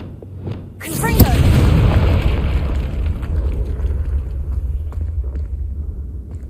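A Confringo fire-blast spell in Hogwarts Legacy on PS5 detonates with a sudden loud boom, then a long rolling rumble that slowly fades.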